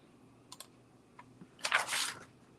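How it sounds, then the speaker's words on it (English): Keys on a computer keyboard clatter in a few sparse taps, then a quick dense burst of typing, close and fairly clear in a quiet room. "Let me type it."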